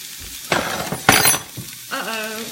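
Vegetables tipped into a hot pan for cashew chicken: a burst of clattering and rattling followed by crackling sizzle, fairly loud and close, with a brief spoken sound near the end.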